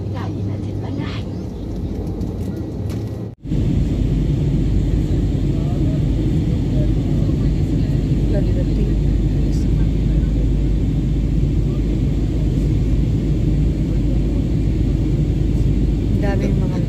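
Inside an airliner landing on a flight to the Philippines, a loud continuous low engine and cabin roar holds steady after a brief dip, with speech faintly present.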